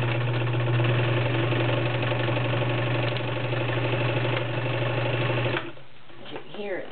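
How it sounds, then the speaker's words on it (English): A vintage Riccar RZ-415B zigzag sewing machine runs with a steady, smooth mechanical hum and fast needle rhythm for several seconds, then stops, and a voice is heard afterward. "As you can hear, it's a very smooth working machine."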